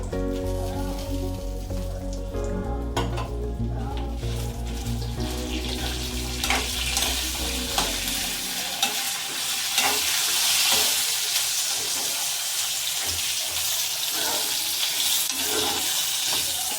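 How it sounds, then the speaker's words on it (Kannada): Dried red chillies and curry leaves fry in a pan, first under a low humming rumble, then as a dense crackling sizzle with scraping stirs. The frying sounds close and continuous, with no talk. "ಒಣಮೆಣಸಿನ್ಕಾಯಿ ಚೆನ್ನಾಗಿ ಹುರ್ಕೋಬೇಕ್ರಿ ಕರಿಬೇವಿನ ಸೊಪ್ಪು"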